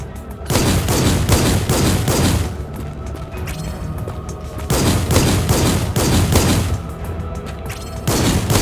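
Sustained automatic gunfire in a sci-fi roguelike first-person shooter, loud and close, coming in long continuous bursts separated by brief dips in intensity.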